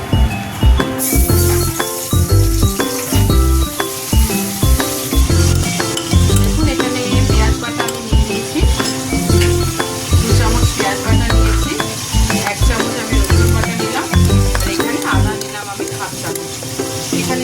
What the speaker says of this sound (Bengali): এবার কড়াইতে তেল দিয়ে দিয়েছি। তেল প্রায় গরম হয়ে এসছে। এবার মাছটা আমি খুব হালকা করে ভেজে নেব।